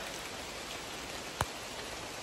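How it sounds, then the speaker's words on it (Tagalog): Steady heavy rain hisses without pause, with a single sharp knock partway through and no talking. "Yan, sobrang lakas ng ulan."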